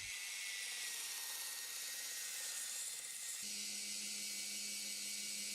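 A Proxxon BS/E belt sander runs steadily with a constant high-pitched whine and abrasive hiss, its tone deepening into a lower hum partway through; no one speaks.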